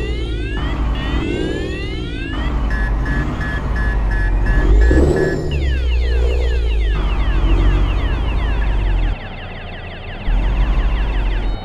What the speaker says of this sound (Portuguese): Olha o alerta de ré como ficou